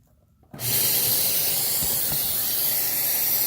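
A vacuum cleaner hose sucking air under a refrigerator to clean its coils switches on abruptly after brief quiet, then holds a loud, steady, close rushing hiss of airflow.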